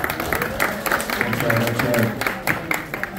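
An audience at the World of Coca-Cola in Atlanta applauds in a short burst of clapping, with voices heard over it.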